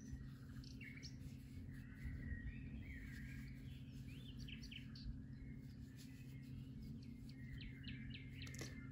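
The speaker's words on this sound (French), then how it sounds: "On entend le bruit des oiseaux." Chirping and tweeting birdsong sits as a soft, continuous layer in gentle background music, with repeated calls over a steady low hum and no speech.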